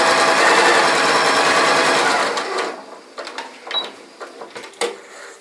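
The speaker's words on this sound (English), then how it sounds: "I can just stitch my 1/4-inch seam by running my fabric along this black ledge" A sewing machine stitches a quarter-inch quilt seam at a shortened 1.8 stitch length, fabric guided along a black ledge on the presser foot; a steady, close, buzzing whir runs for over two seconds, then stops and gives way to scattered small clicks and handling taps.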